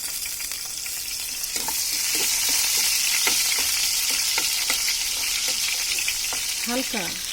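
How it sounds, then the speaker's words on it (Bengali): Chopped garlic sizzles steadily in oil in a pan while being stirred, with occasional scraping clicks over the constant frying hiss. "এখন এর মধ্যে আমি রসুন কুচি দিয়ে দিব আগে"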